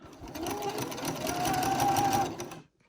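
A domestic sewing machine runs a steady, continuous buzz for about two and a half seconds, back stitching a seam on a fabric bag, then stops abruptly. The machine is close and has no talk over it.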